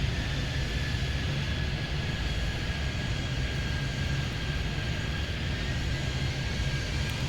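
A jet airliner takes off in the video game Airport Madness 3D, its engines giving a steady, loud roar with a high whine running through it, continuous and unbroken from start to finish.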